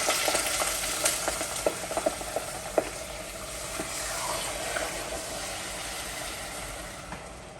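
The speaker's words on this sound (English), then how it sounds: "Got that butter in there. Gonna stir around." Butter for an oyster stew sizzles as it is stirred in a pot, making a constant soft hiss with scattered clicks and scrapes, close by and without talk.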